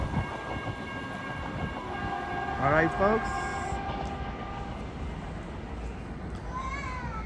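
Caltrain trains run through Redwood City station, a continuous rumble of rolling stock with a brief tonal horn or whistle midway and a faint later tone, while someone talks over the noise.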